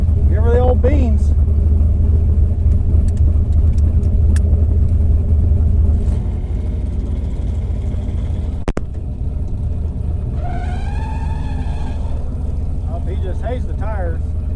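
A turbocharged LS-swapped Ford Ranger pickup at a track rumbles with a loud, deep engine drone, then its pitch climbs as it revs, with a voice speaking over it.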